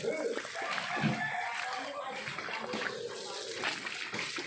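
Children splashing and playing in water in a bathtub, continuous close splashing and sloshing mixed with a child's and an adult's voices talking.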